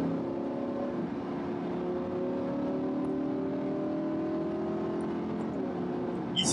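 A car accelerates steadily around the Nürburgring track during a driving course, its engine droning loud and close with a sustained, rising tone and no break throughout.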